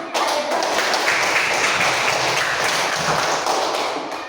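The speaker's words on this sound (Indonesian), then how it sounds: "Ya, tepuk tangan" A class of schoolchildren claps together in a quick, dense burst of hand claps, steady and fairly loud for several seconds before easing off slightly at the end.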